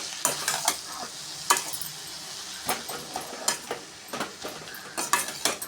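Finely chopped black nightshade greens being mixed into sautéing onion and tomato: a run of sharp, close spoon scrapes and clinks against the pan over a soft sizzle, repeated irregularly, with no voices.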